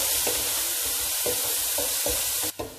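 Crushed small shallots sautéing in hot coconut oil for Kollam-style beef poriyal, with a loud, steady hiss and repeated rhythmic stirring scrapes through the pan.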